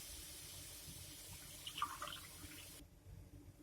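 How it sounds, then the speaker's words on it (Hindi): Water poured from a glass into simmering egg curry masala in a Bihari-style gravy, a soft, steady splashing pour heard faintly that cuts off abruptly near the end. "इस गिलास से मैंने 2 गिलास पानी डाला है।"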